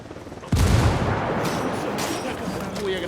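A frag grenade detonates with a sudden heavy boom in the video game Ghost Recon Wildlands, followed by a rolling roar of debris and scattered gunfire, loud and close.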